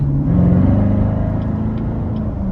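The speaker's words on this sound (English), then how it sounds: "it's just something about the Z51 exhaust" A 2015 Chevrolet Corvette C7 Z51 2LT with the Z51 exhaust rumbles loudly from inside the car on a test drive, a deep steady drone that swells slightly as the engine pulls, with no talking.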